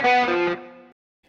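Distorted electric guitars play a short synced transition phrase, notes stepping down by a semitone in sustained chorused chords that cut off after about a second.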